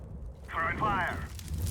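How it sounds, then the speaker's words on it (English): A Molotov fire grenade in Counter-Strike bursts into flame with a bright crackling whoosh lasting under a second, set against low background rumble during a professional ELEAGUE Major match in Atlanta. "Throwing fire."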